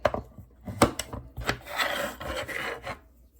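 A Buck Bantam knife blade drawn along the fine ceramic rods of a Spyderco Tri-Angle Sharpmaker, giving a series of short, close, crisp rasping strokes with a few light clicks between them, no talking.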